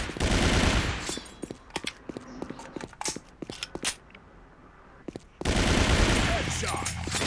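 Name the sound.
gunfire in a shooter video game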